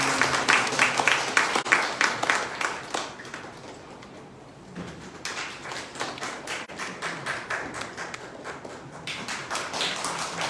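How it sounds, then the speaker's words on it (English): An audience at a business launch event gives a sustained round of rhythmic clapping that thins out briefly midway, then picks back up into steady applause. "please let's have a big round of applause for her"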